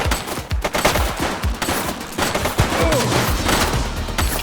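Rapid gunfire from the police game The Precinct, a dense string of sharp shots crackling over a busy, noisy background for the whole stretch.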